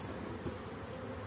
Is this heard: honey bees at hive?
yes